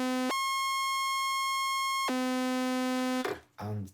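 Omnisphere synth tone switched by a square-wave LFO between two distinct steady pitches, a bright harmonic-rich tone holding, jumping to a second tone and back, loud and alone, ending in a brief burst of noise.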